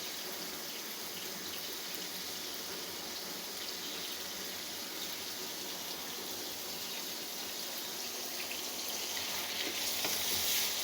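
Fish fries in a pan with tomato, onion, garlic and spices, giving a dense, steady sizzle at an even loudness throughout, with no talking.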